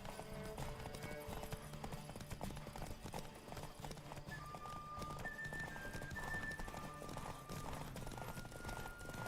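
Steady clip-clop of horse hooves at a gallop in the PC game The Witcher 3, continuous throughout, with a dense layer of music and ambient game sounds underneath.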